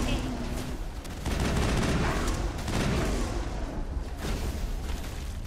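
Sustained gunfire from the video game Mass Effect during a battle at a colony, dense rattling shots with bursts of heavier booms throughout, continuing alongside in-game voices.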